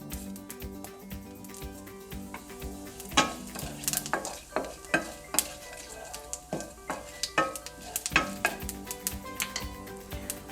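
Urad dal, chana dal and cumin frying in a pan with a steady sizzle, while a spoon scrapes and clinks against the metal in repeated sharp strokes, close and clear, with no talking.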